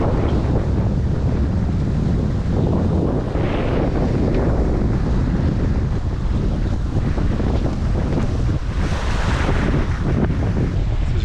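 Sailboat under way at nearly 7 knots in open sea, with loud continuous wind buffeting the microphone over rushing water and hull noise. It stays steady and close for the whole stretch, and no one speaks.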